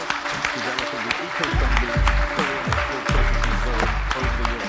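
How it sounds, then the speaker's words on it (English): Audience applause at the opening of the Bangladesh Business Summit 2025, a steady wash of clapping with a loud swell near the middle, heard under a tonal music bed and amplified hall sound. "ladies and gentlemen, a round of applause for Mr."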